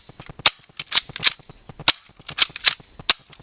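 BOOMco toy blaster with a slide prime firing darts, a rapid series of sharp snapping shots and clicking priming noises, close and fairly loud, no talk.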